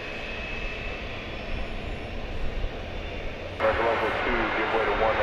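A Korean Air Cargo jet at DFW Airport at night makes a continuous engine roar that swells abruptly louder partway through, with a voice over it.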